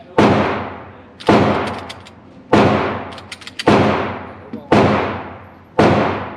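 Pistol shots from a Taurus G2C and Springfield Hellcat, six loud, sharp reports spaced about a second apart at close range, each with a short decaying echo.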